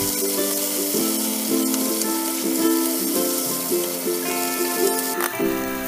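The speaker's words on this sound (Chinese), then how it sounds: "下面做一道腊肉炒花叶菜，热油煸炒腊肉，然后加入胡萝卜、青椒和花叶菜" Cured Chinese bacon stir-fried in hot oil with carrot, green pepper and leafy greens gives a loud, close sizzle, with a spatula scraping and clinking against the wok in a busy, uneven rhythm throughout.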